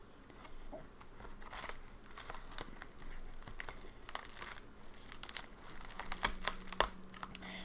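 A shipping package holding fountain pen supplies being cut open by hand, with close, faint crinkling, rustling and small tearing sounds in irregular bursts.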